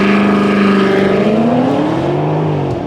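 BMW X5M SUV launching hard under launch control with traction control off, a loud continuous engine roar rising steadily in pitch through about three seconds of full-throttle acceleration, no talking.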